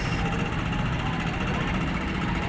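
A fishing boat's engine chugs steadily as the boat comes into Bulan fish port in Sorsogon carrying tamban sardines, a continuous low rumble that holds throughout with a mix of background noise.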